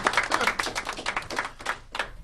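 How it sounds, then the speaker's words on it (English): Scattered audience clapping in a small room after a poetry reading, uneven and moderately loud, with the claps thinning out and trailing off toward the end. "give him a round of applause"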